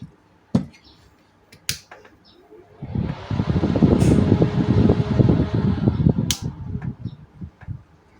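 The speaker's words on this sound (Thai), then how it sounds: "พัดลมตัวนี้มันจะค่อนข้างแรงนะ จะเป็นไฟ 220 นะฮะ" A strong 220-volt electric fan whirs up after a few sharp clicks, its broad rushing hum swelling, holding steady for several seconds, then easing slightly, close and loud with no talking.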